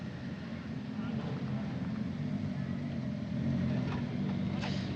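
An Italian F4 single-seater race car at Mugello Circuit rolls into pit lane, its engine a continuous mid-distance drone that swells slightly toward the end, with a voice talking over it.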